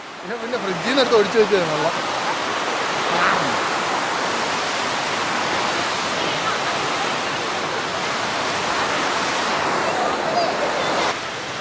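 Vadattupara waterfall in Kerala roars with a loud, steady broadband rush of falling water close by. People talk briefly over it at the start.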